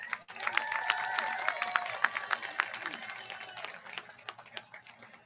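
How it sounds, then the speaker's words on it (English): A crowd at a high school graduation applauds the class president, steady clapping mixed with a few cheers and whistles that gradually thins to scattered claps. "Round of applause for Yanely Munoz."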